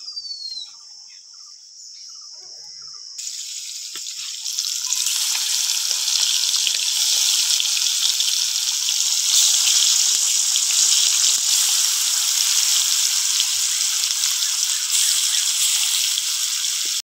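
Glass carp pieces rubbed with salt and turmeric go into hot oil. After a quiet opening, a loud, bright, steady sizzle builds and holds to the end, with no speech.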